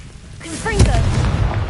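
A Confringo fire blast spell explodes in the video game Hogwarts Legacy, a low booming burst with rumble that follows a brief whooshing, tonal swirl of spell effects.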